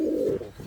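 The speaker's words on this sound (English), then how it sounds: "this is the cock pigeon" A cock Indian Fantail pigeon coos close by, one sustained low throaty note that breaks off and then trails into a softer second murmur.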